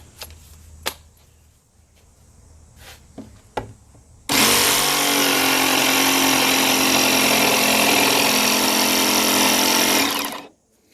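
A few knocks and clicks, then a jigsaw starts and cuts through a countertop continuously for about six seconds, loud, buzzing and close, before stopping abruptly.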